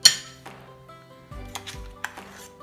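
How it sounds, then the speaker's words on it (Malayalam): Homemade mayonnaise being transferred into a bowl: a sharp clink at the start, then a few lighter taps and knocks of utensils against dishes, close and sparse, with quiet gaps between. "ഇനി നമ്മളതൊരു പാത്രത്തിലേക്ക് മാറ്റാം."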